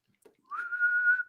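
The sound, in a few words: person whistling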